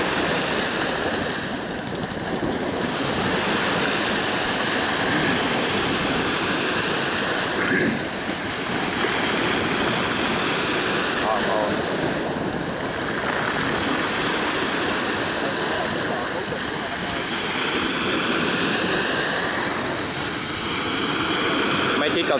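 A fast speed boat travelling at twenty to thirty knots on the open sea, slicing through the waves with a continuous loud roar of engine, rushing water and wind, heavy surging swells rising and falling throughout.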